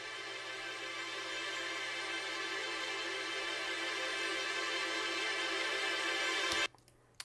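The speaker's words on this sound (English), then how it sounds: "and these are like very quick tremolo kind of strings." Quick tremolo strings from the LA Scoring Strings sample library form a dense, sustained shimmering texture at moderate level. They play alone for about six and a half seconds, then cut off abruptly.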